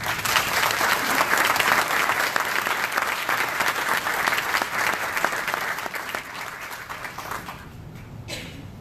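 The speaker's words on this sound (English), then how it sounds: "Please join me in welcoming one of the most important peace builders in our community, Dr. Eddie Woods" An audience at a Louisville Rotary gathering applauds steadily to welcome a community peace builder, a loud, dense clapping that tapers off in the final seconds.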